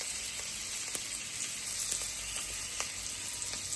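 Grated ginger and garlic sizzling in butter over a medium-high gas flame, a steady bright frying hiss throughout with a few faint clicks and stirring ticks, close and without talk.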